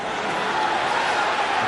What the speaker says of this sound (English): Buzz from the crowd as Suarez gets it